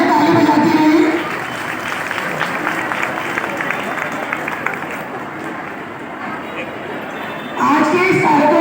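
An audience at a women's conference in Bijnor applauds, a burst of clapping at the start and again near the end, with a speaker's amplified voice talking in between.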